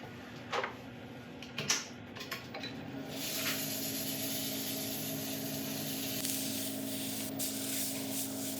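An abrasive paste polishes a spinning bowl of ancient oak on a woodturning lathe. A few light clicks and scrapes come first, then a steady motor hum with a continuous soft rubbing hiss.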